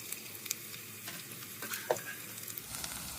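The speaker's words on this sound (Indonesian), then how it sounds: "Oke, lalu kita tumis lagi sekitar beberapa saat sampai layu" Sliced spring onions stir-fried in a pan for Hainanese chicken rice, a soft steady sizzle with scattered stirring scrapes and small pops, quiet and close, no voices.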